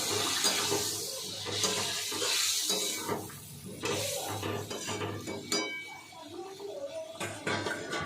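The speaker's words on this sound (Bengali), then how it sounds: "জল দেওয়া মাত্রই সঙ্গে সঙ্গে ফুটতে শুরু করে দিল" Hot water pours into a simmering potato curry for niramish aloo dum, a steady watery splash and bubbling running throughout with a few light clinks of utensils, close and moderately loud.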